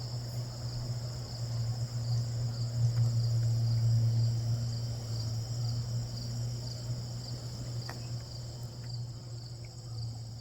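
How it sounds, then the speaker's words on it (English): Steady bee buzzing and droning outdoors in a garden near hydrangeas, continuous and fairly close, with a constant low hum and high whine throughout. "Bees over there."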